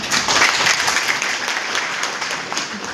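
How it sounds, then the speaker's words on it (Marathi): Students at an award ceremony for meritorious pupils honoring Dr. Babasaheb Ambedkar's 135th birth anniversary in Satara applaud together, a dense, sustained crowd clapping that holds steady throughout. "स्वतःसाठी एकदा टाळ्या"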